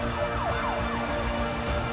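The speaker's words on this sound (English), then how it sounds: "Sirens blared and people screamed, filling the evening air with an atmosphere of pure terror." Emergency sirens wail in repeated rising and falling sweeps over a dense, steady wash of noise, fairly distant and continuous, used as a sound effect in an apocalypse audiobook scene.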